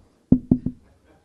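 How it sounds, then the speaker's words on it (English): Three quick, solid knocks on a door in an even rhythm, close and loud, followed by silence. "They were knocking at the door."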